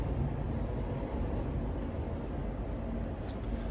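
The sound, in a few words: train accelerating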